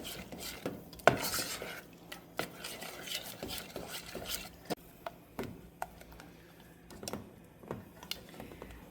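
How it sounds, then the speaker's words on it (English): Spoon stirring milk into a pot of melting marshmallow and chocolate fondue, with soft scraping and clinking against the pan in irregular taps, close and fairly quiet, no talking. "we'll get that all stirred in and get the marshmallows finished melting here"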